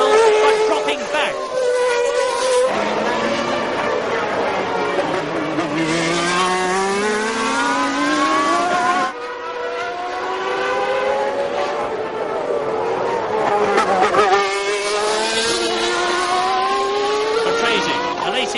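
Williams Formula One race cars at full racing speed, a loud continuous high-revving engine whine with rising and falling pitch sweeps as cars pass and change gear, sustained throughout with a brief dip midway.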